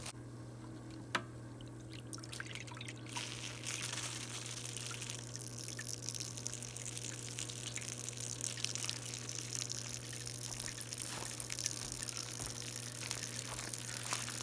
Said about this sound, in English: we need to turn the water on to where it slowly keeps water in here